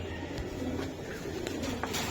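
A large pigeon coos softly close by, with low, rounded coos repeating over a couple of seconds against quiet background noise.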